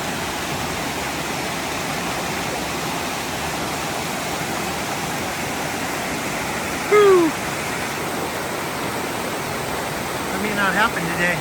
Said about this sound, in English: that is a torrent of water rushing through here